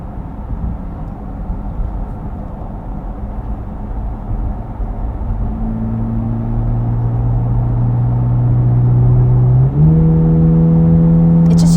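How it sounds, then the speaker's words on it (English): Chevrolet C8 Corvette Z06 on its factory exhaust accelerating, a steady engine drone that swells and rises in pitch, then shifts up into a higher, louder tone near the end, heard from inside the car. "This is a crazy exhaust for just being factory."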